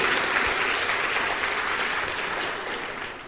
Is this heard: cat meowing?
no